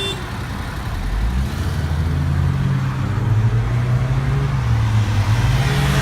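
A car engine drones loudly during a race against an Altima and a Yamaha FZ07, its pitch climbing and then stalling flat after a missed gear shift.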